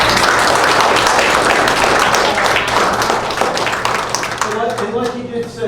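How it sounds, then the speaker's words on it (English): Attendees at a meeting clap loudly and steadily for a few seconds, the applause thinning toward the end as a voice begins speaking. "I think he deserves a round of applause for that"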